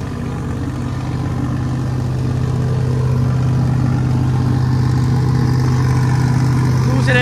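A New Holland 3630 tractor engine runs steadily throughout, a loud, low, continuous drone with a faint rising note near the end, heard alone without speech.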